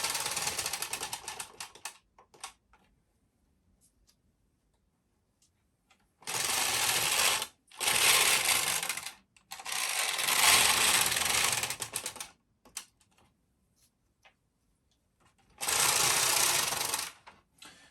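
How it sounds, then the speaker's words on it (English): Ultimate Sweater Machine knitting rows of a child's size 10 intarsia sweater in stocking stitch, four bursts of rapid clattering carriage passes with quiet pauses between, close and fairly loud, no talking. "I'm going to knit 2 more rows in stocking stitch"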